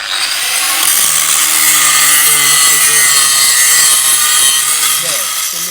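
A sanding machine polishes a kitchen cabinet surface with a steady, loud, broadband whirring rasp that runs throughout, while someone talks over it.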